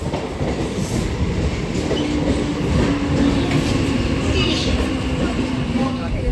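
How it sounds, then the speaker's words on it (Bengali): A 12-coach passenger train pulls into a station with a loud, steady rumble of wheels and carriages, a faint sustained squeal running through it. "অলরেডি কিন্তু আমাদের ট্রেন ঢুকে গেছে"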